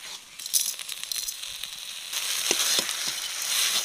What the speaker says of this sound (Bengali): এবার মানকুচিটা ভালো করে নেড়ে চেড়ে শুকনো করে নেব